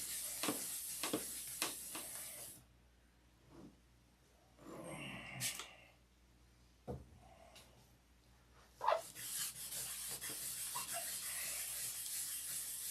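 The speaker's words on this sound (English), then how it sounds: "must be because this paint's drying, because it's sanding out a whole lot better" Hand sanding of a painted surface with lubricated sandpaper, soft wet rubbing strokes in short bursts separated by quiet pauses, fairly faint and close.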